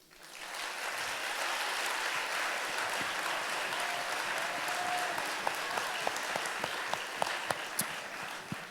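Audience applause at a business school graduation ceremony in Paris, a broad sustained roar of clapping that rises quickly and holds, then thins out into a few scattered individual claps near the end.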